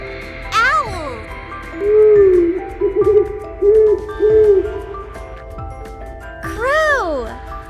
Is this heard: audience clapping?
no